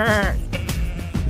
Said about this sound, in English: look at the goats.